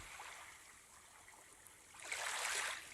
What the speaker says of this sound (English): I noticed that the sound of the waves seemed to echo quite loudly